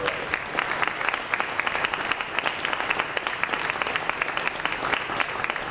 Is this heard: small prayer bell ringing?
no